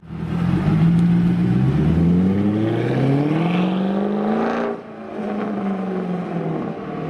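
A Mercedes C63 AMG with new performance engine and transmission mounts revs hard and accelerates close up, its engine note climbing steadily through the gears, dipping briefly, then pulling again loudly with no talk.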